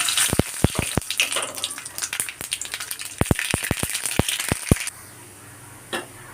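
Sharp crackling pops burst irregularly as mustard seeds splutter in hot coconut oil, a quick spluttering run of snaps that thins out and nearly stops near the end.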